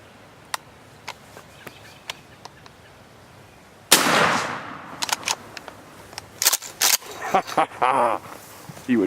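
A single sharp, loud gunshot cracks out during a spring turkey hunt and decays quickly, with faint clicks before it and bursts of excited talk and rustling afterward.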